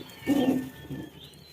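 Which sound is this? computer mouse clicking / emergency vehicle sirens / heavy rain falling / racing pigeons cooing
racing pigeons cooing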